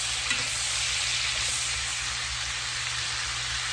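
Home-grown onions frying in a pan while being stirred, a steady soft sizzle with faint scraping from the stirring, close and continuous with no speech.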